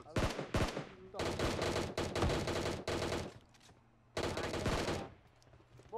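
Shotgun fire in the PUBG Mobile video game sounds as several heavy, loud bursts of shooting broken by brief gaps, with speech faintly underneath.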